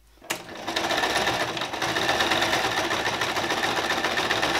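A sewing machine stitches gathered dress fabric, starting with a click and then running in a steady, close, fast mechanical whir that continues unbroken to the end.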